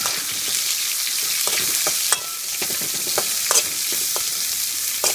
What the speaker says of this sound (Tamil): வெங்காயம் மட்டும் கொஞ்சம் நல்லா வணங்கட்டுங்க.